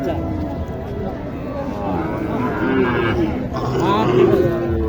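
Shahiwal cattle low at a busy livestock market in Naogaon, long deep moos rising over a crowd of people talking and calling out nearby.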